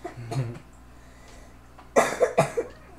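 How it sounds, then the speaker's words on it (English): Several sharp coughs from one person close by, a short burst in the first half-second followed by a cluster of three or four harsh coughs toward the end, amid quiet room tone. "Man, I'm coughing a lot."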